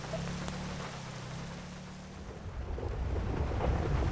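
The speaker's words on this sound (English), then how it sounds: "on the way back it actually started to get this bad thunderstorming" A thunderstorm in the video game GTA 5 brings a deep rumble of thunder that swells over steady rain, a low hum fading partway through as the roar grows louder toward the end.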